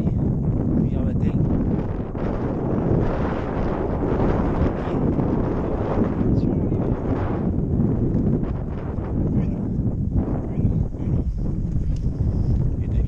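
Strong wind buffets the microphone throughout, a loud, rumbling roar that swells and dips without pause.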